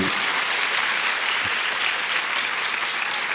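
Steady applause from an audience at an Islamic sermon gathering in a pesantren, a dense unbroken wash of clapping holding at one level throughout with no voices rising above it.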